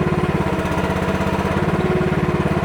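A small engine on an MH12RX mini excavator runs steadily close by, a loud pulsing low chug with an even rapid beat, alone without talk.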